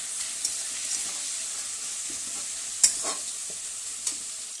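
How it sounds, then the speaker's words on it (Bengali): Fish frying in hot oil in a home kitchen, a steady hiss and crackle throughout with a few sharper pops and spatters standing out, close and continuous with no voices. "এদিকে মাছ ভাজা হচ্ছে।"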